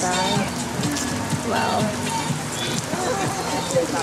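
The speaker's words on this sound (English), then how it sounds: "Here it's pouring." Heavy rain pours down at a cafe in Nara, Japan, a dense steady hiss of drops on surfaces that runs throughout, with a person talking over it.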